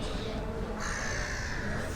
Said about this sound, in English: there's some birds going nuts in the background there